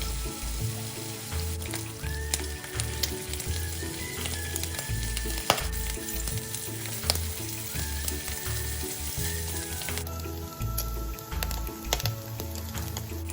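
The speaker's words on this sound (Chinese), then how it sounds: "在锅内倒入2大匙的食用油，再将切好肉片放入，低火爆香，一直煸至肉片表面微焦。" Pork slices fry over low heat in two tablespoons of cooking oil in a wok for a black vinegar cabbage dish, with a continuous close sizzle and crackle and occasional scrapes of stirring.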